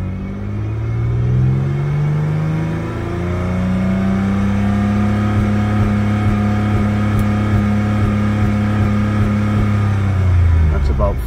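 A 1999 Mercedes-Benz CLK320 engine revving in park up toward its fuel cutoff point, a loud rising and falling engine drone with rumbling tones that climb, hold and waver, with a person talking over it.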